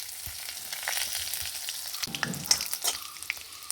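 Cumin seeds frying in a little oil in a hot pan for an onion chutney, a steady close crackling sizzle with sharper pops and a few stirring scrapes toward the end, no talking.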